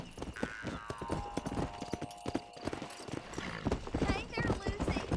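A horse in the Red Dead Redemption video game walks with steady clip-clopping hooves and a whinny, while people talk over it throughout.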